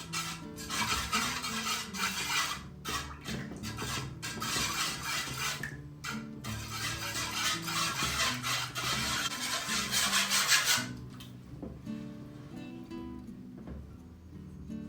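A utensil stirs milk with salt in a bowl for byrek, giving a continuous scraping, swishing rhythm for several seconds, then fading to faint quieter stirring.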